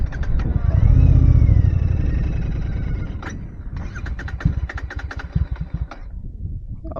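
A Royal Enfield Interceptor 650 motorcycle, apparently out of petrol, cranks with a rumbling starter that fades without catching, followed by a series of sharp clicks and taps, close and fairly loud.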